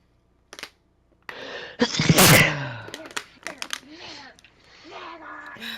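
A single sharp, explosive sneeze after a brief breath, followed by people talking casually nearby.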